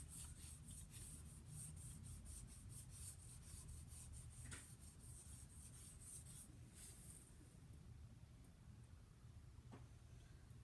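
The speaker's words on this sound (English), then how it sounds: "We're polishing this up to have a very nice sharp tip." A drawing tool being polished to a sharp point gives a steady, close rasping rub that runs continuously, with a few brief sharper scrapes breaking through.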